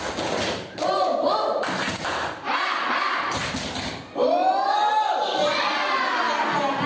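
A group of children in an Indonesian classroom chant and clap a spirit-clap (tepuk semangat) routine in bursts, loud shouting voices with rhythmic claps, close and energetic.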